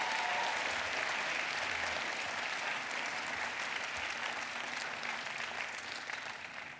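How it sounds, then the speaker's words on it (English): A large commencement audience at a law school graduation ceremony applauds steadily, a dense, even wash of clapping from many hands that holds for several seconds and fades slightly toward the end. "let's give another round of applause for those folks"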